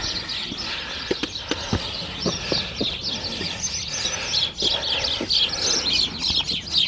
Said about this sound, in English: The twitter of the birds in a domestic hedge.